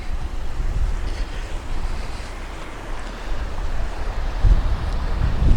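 Water pours over a small weir in Pont-Aven, heard as a broad, rushing wash mixed with gusty wind buffeting the microphone, steady and moderately loud with no talk.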